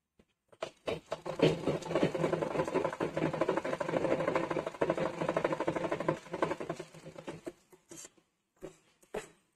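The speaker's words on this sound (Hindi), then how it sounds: "जितना पर हम सिलाई चलाए थे सेम हम उतने ही पर इसमें चला देंगे" Close, continuous rapid clatter of a sewing machine stitching along a square neckline for about six seconds, followed by a few short separate taps and handling sounds.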